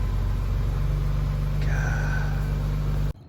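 An Infiniti Q60 Red Sport fitted with an Ark Grip catback exhaust idles with a deep, steady burbling rumble close by, a brief rising whine partway through, before cutting off abruptly.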